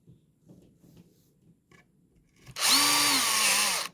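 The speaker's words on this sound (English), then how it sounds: "And now we can go ahead and drill these in place." A power drill drives screws into a wooden writing desk during assembly, a sharp loud whirring burst that starts abruptly after quiet handling noises and runs steadily, close up, to the end.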